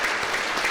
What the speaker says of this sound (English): So can we get another round of applause for her?